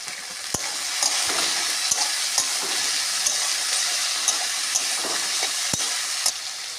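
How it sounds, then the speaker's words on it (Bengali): Potatoes with turmeric and black cumin fry in a pan, giving a continuous loud sizzle with regular sharp clicks and scrapes of a spatula stirring throughout. "একটুখানি হলুদ দেব আলুটা ভাজার সময়।"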